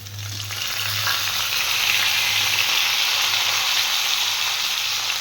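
Ginger-garlic paste hits hot oil with oil-fried raw potatoes for aloo dum, a loud, close, continuous hissing sizzle that holds steady throughout, with a low hum underneath early on.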